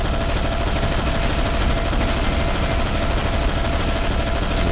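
Dense, continuous automatic gunfire in the Zombie Shooter 2 video game, a relentless loud rattle of rapid shots filling the whole stretch without pause and with no talking.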